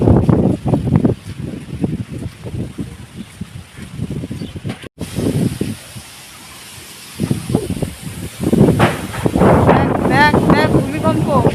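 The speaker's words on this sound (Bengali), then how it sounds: "এই রাস্তাটাতে প্রচুর হাওয়া করে" Strong wind gusts on an open road buffet the microphone with a rough, rumbling roar that swells and drops, heard under people talking and briefly alone near the middle.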